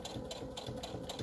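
A sewing machine runs at a steady pace top stitching fabric for paper-chain crafts, its needle mechanism chattering in an even, rapid rhythm close by.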